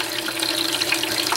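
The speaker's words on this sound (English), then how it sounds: "I like to use the micro bucket sluice 2 as a cleanup tool, because we got the vibrator and there's more water flow across" Water runs steadily through a vibrating micro bucket sluice 2 used as a gold cleanup tool, a continuous close rushing and trickling with no voices.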